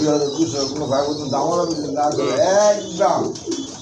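A pair of male and female pigeons offered for sale coo close by in a steady stream of soft, throaty, rolling calls, with voices talking faintly underneath.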